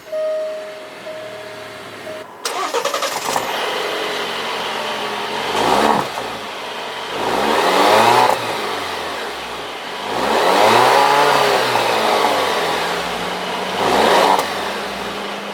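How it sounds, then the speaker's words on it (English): A 2018 Alfa Romeo Stelvio Ti Sport starts with a sharp crank and catch, then idles steadily and revs several times, each rise swelling loudly and settling back, heard close and alone. "with my foot on the brake, I can go ahead and start it up."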